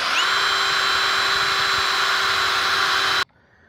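A power drill runs continuously at high speed, boring a 1/4-inch-deep hole for a solar panel mount, loud and close with a whining tone, then cuts off abruptly near the end.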